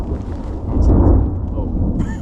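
A low rumble of thunder from a distant storm swells and fades over a couple of seconds during a backpacking trip, with brief voices and background noise around it.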